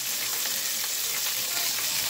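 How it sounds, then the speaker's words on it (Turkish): Meatballs and peppers frying in a pan give a steady, close sizzle with bright crackling that stays even throughout, and no one speaks. "Şöyle biberleri de çok fazla kızartmayacağım. Şöyle çevireceğim arkadaşlar."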